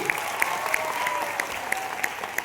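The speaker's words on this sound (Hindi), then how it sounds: "तालियां बजाएं भाई" Crowd clapping at a road-safety gathering with children and soldiers at the Jalandhar army cantonment: a moderately loud, continuous patter with distinct claps recurring at a brisk, fairly regular rhythm.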